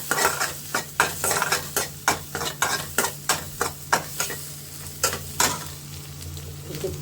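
A home cook stirs and mixes food in a hot pan, the spoon scraping in a steady rhythm of about a dozen strokes over a soft frying sizzle and a low steady hum, with no talking.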